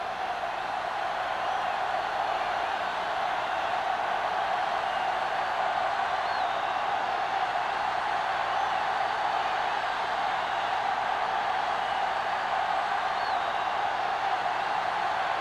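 A stadium crowd at a football video game sends up a steady, even roar of broad noise that holds unchanged the whole time, with no separate cheers or voices standing out.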